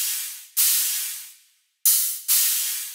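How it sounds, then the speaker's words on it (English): Very noisy, bright dubstep hi-hat hits, made from unprocessed noise bursts, play as a sparse pattern of long hissing strikes that each fade out, with a short silent gap between groups. "Then we have a cool hi-hat pattern, very noisy and very bright."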